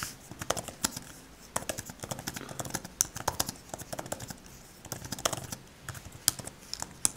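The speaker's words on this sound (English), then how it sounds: "this keyboard makes it very easy to type" Rapid, uneven typing on a Microsoft Surface RT keyboard cover, with crisp key taps in quick bursts, heard close and clear with no talking.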